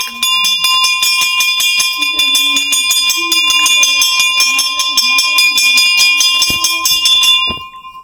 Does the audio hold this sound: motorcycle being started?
no